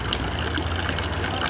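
Water flows steadily from the opened tap of a Swot Enterprises solar water heater, a continuous low rushing trickle that stays even and close throughout the short stretch, with no talk over it.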